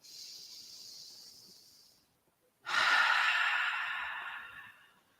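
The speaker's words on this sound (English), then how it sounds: "1 more full belly breath." During a yoga session, a deep diaphragmatic belly breath is drawn in as a soft airy inhale, then after a brief pause released in a louder, rushing exhale, both close to the mic.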